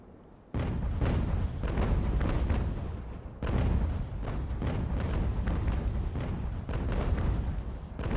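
Ship cannons boom repeatedly during a naval battle in Ultimate General: American Revolution, a strategy video game. The heavy blasts come in dense, overlapping volleys, loud and continuous, with two bigger surges of fire.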